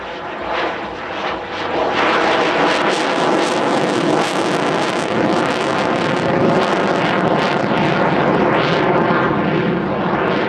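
German Air Force Eurofighter EF2000 jet in a solo airshow display, a loud, sustained, close jet roar that swells early and then holds at full power with a tearing rumble, with no voices.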